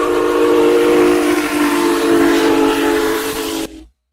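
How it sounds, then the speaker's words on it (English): A steam train whistle in a farming game blows one long, loud, sustained blast over a breathy hiss, then cuts off abruptly just before the end. "Choo-choo train."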